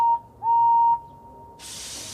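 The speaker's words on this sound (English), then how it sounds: "Henry blew his whistle" Whistle of a Henry toy steam engine: one short high whistle blast, a brief pause, then a longer clear sustained blast, followed by a burst of steamy hiss as it starts off.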